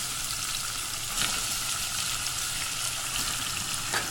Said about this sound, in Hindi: इसको मैं हल्का सा फ्राई करूँगी।